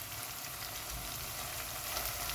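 Tomatoes with red chili flakes and salt cook in a pot for a green bean dish, giving a steady, even sizzle and crackle throughout, close and fairly quiet, with a faint stirring scrape and no voices.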